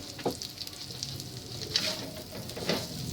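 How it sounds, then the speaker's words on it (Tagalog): Pork pieces frying in a pan for Lucban-style pancit habhab give off a soft, steady sizzle, close by and fairly quiet, with a few brief stirring scrapes and clicks along the way. "Medyo ipapry lang po natin ng konti yung pork natin."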